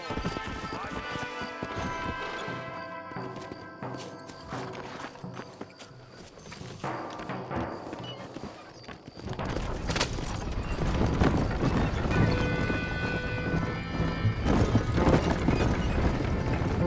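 Horse hooves galloping in Red Dead Redemption as John Marston rides in Mexico, a continuous rapid clip-clop that grows louder and denser in the second half, mixed with game sounds and a voice urging the horse on.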